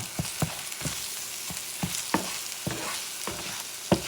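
Eggs with salt cod scramble in a frying pan under a soft continuous sizzle, punctuated by about a dozen sharp spatula scrapes and taps at an uneven rhythm, close by and without talk.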